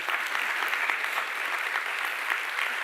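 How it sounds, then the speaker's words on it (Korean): Steady applause from a church congregation, dense and even from start to finish with no voices above it. "이럴 때 박수 한번 나오면 정말 좋을 것 같은데요."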